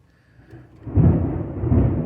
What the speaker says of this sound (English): That's thunder if the camera even picks it up.